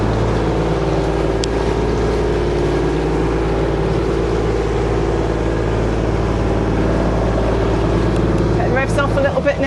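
A sailboat's inboard engine drones steadily as it motors out of a marina, a close, constant low throb with a brief clatter near the end.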